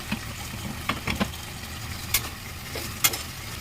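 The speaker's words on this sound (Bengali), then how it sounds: "আবার কিছুক্ষণের জন্য একটু ঢেকে দেব দেখুন বন্ধুরা আর একবার একটু নাড়িয়ে নেব" Spice masala for a vegetarian soybean and potato dish sizzles in a pan as it is stirred: a steady low frying hiss broken by a few sharp scraping clicks of the spoon, with no talk.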